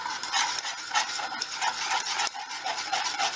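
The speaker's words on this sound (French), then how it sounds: "moi je passe un coup de maryse au fond, comme ça décolle bien le chocolat" A silicone spatula scraping chocolate cream off the bottom of a pan, a soft rhythmic rubbing and stirring with repeated strokes, close and fairly quiet.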